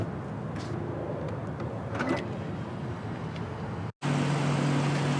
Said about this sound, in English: it will unlock and it will hold itself in this position so that you can place your hand under and open the door